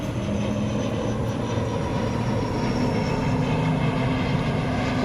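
A fixed-wing airplane passes over a park with a steady, broad engine roar that holds even and fairly loud throughout, with no voices.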